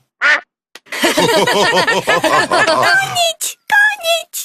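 A duck quacks loudly and rapidly in a long run of nasal calls, then a few separate quacks follow after short pauses.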